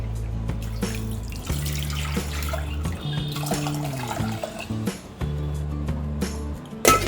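Water runs steadily from a tap and pours into a pressure cooker, a continuous splashing stream with a few brief interruptions, close by.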